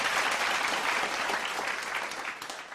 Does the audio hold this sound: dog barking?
no